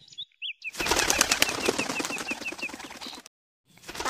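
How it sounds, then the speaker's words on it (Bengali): Cartoon flock of birds flapping their wings and flying away: a dense, rapid flutter of many wings lasting about two and a half seconds, with a thin whistling tone over it, then silence. "পাখিগুলো উড়তে উড়তে অন্য জঙ্গলে চলে গেল।"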